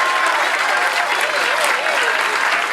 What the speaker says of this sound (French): ainsi vous applaudissez